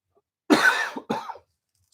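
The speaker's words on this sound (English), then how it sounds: "I still have a cough, by the way." A person who has pneumonia coughs twice in quick succession, two short rough bursts close to the microphone, with silence around them.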